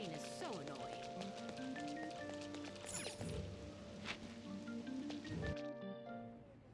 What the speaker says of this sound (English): Oh, this rain is so annoying.